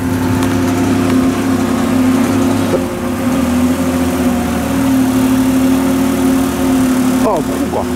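A tuk-tuk's small engine idles with a steady low chugging hum throughout, fairly close, with a brief sharper sound near the end.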